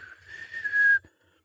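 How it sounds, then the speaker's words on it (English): A Captain Crunch cereal toy whistle, like a boatswain's whistle, sounds one shrill, steady tone that builds for about a second and then cuts off abruptly, loud and close. "the Captain Crunch cereal whistle, it's like a boatswain's whistle"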